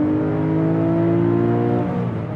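A 2011 Porsche GT3 RS engine revs from 4,000 to 7,000 rpm, a loud, close, sustained mechanical howl that climbs steadily in pitch and then eases off at the end.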